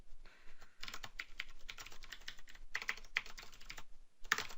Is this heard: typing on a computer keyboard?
yes